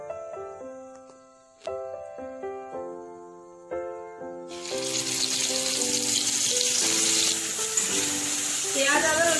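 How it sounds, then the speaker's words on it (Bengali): A blended onion, ginger and garlic paste hits hot oil with tempering spices and erupts into a loud, steady sizzle that continues to the end, following a stretch of melodic plucked music that carries on underneath. "পেঁয়াজ আদা রসুনটা একটু কষিয়ে নেব।"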